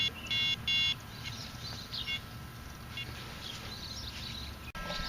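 Two loud high electronic beeps near the start, then softer scattered false blips and chirps from a Minelab CTX3030 metal detector in a park over low background rumble.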